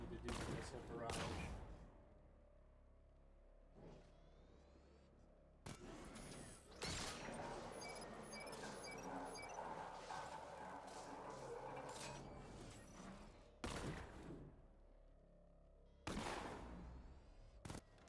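Missile barrage in Batman: Arkham Knight: bursts of rapid gunfire-like explosions and mechanical clatter come in several loud waves over a constant game backdrop, with short pauses between them.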